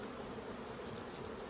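A dense, steady hum of honeybees fills a hive check, a faint, even buzzing swarm with no voices over it.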